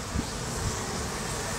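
Bees swarm at a hive entrance, a dense continuous buzz of many insects close to the listener, with a couple of louder individual bees passing nearby.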